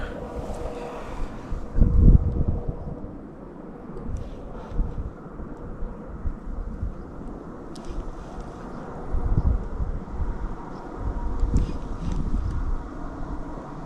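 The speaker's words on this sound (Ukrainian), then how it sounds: "Вітер трохи заважає." Wind buffets the microphone by a river in low, rumbling gusts that swell and fade, loud and close, with no voices.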